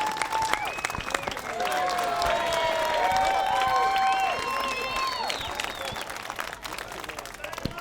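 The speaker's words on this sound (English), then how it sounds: "let's give a big round of applause for Sergeant Romano" A crowd at a Little League championship applauds a sergeant, sustained clapping with some cheering and whistles filling the whole stretch.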